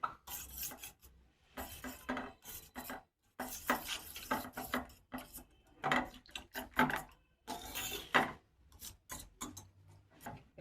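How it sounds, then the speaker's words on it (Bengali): Raw eggs and onion being beaten together in a bowl: brisk, clattering bursts of utensil against dish, coming in quick rhythmic runs broken by short pauses, close and fairly crisp with no talking. "এবার আমি ডিম আর পেঁয়াজ একসাথে ফাটিয়ে নিচ্ছি।"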